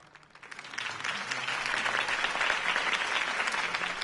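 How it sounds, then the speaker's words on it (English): A crowd applauds after a mayoral campaign speech in the Batman Telltale video game, clapping building quickly from a quiet start into sustained, even applause. "could have heard that applause"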